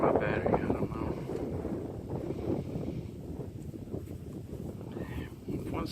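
Strong outdoor wind buffeting the microphone during a drone transmitter range test, a continuous loud low rumble with gusty roaring bursts that masks most other sound, with some speech underneath.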